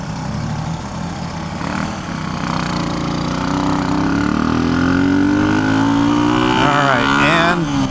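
Small 1976 Honda CB125S motorcycle engine buzzing close in first gear, revving up and climbing in pitch as it pulls away, with a brief warble near the end.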